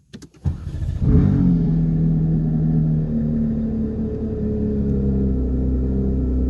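A car engine starts with a brief crank and catch, then settles into a steady, loud idle rumble that holds close and even, with no talking.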